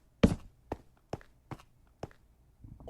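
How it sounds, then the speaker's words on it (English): Minecraft footsteps on stone: five sparse, separate thudding steps spaced unevenly about half a second apart, fairly quiet and close over near silence. "you could hear footsteps on the stone behind him."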